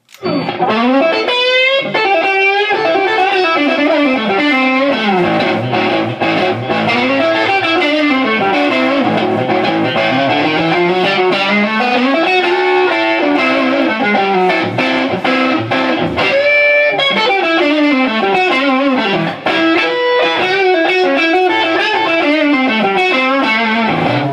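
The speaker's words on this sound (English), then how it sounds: "it's a very natural distortion sound" Electric guitar played through a TC Electronic distortion pedal, heavily distorted and continuous at a loud, steady level, with sustained chords and bending lead lines and no voices.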